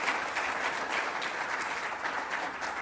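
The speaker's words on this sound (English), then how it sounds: "So perhaps you could all give yourselves a round of applause for being awesome participants" A conference audience at a climate change plenary session breaks into steady, dense applause, many hands clapping together at even loudness throughout with no voices on top.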